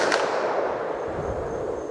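Large-calibre handgun, a .44 Magnum or .50 AE, fired outdoors: one sharp loud blast at the start followed by a long booming echo that rolls away.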